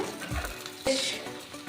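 Chicken meat frying in oil for butter chicken, a soft low sizzle with a brief stir and clink of a utensil partway through, faint and close.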